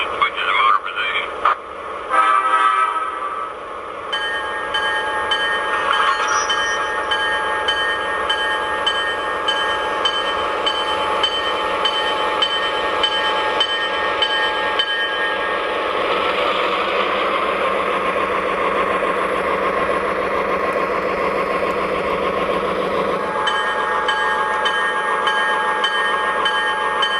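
An MTH Pan Am Railways GP-40 diesel model locomotive runs steadily for the whole stretch, giving a continuous engine rumble with metallic whine and rolling noise, near and fairly loud, with a shift in tone partway and a clattering start.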